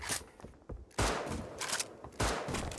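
A Thompson submachine gun in the Rust video game fires quick bursts: one short volley, then two heavier sustained strings of shots close up, with brief gaps between them.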